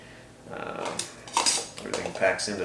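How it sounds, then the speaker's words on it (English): Metal cookware from an MSR Windburner stove set clinks and rattles as the pieces are handled and nested together, with several bright, close metallic knocks and scrapes over about three seconds. "I've switched here recently to a MSR Windburner Stove Set, which comes something like this"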